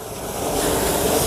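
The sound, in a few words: water spray rinsing off a floor mat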